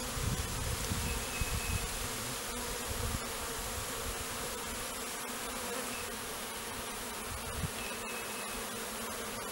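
A honey bee swarm buzzing around a bait box, a dense continuous hum of many bees close by with individual bees droning past, steady throughout with no talk.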